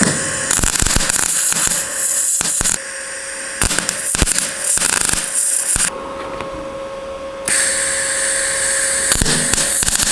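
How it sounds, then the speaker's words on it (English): MIG welding on the sill panel of an old rusty car, a loud, steady crackling hiss that runs in long bursts with brief breaks between beads. "now we will need to weld it in place"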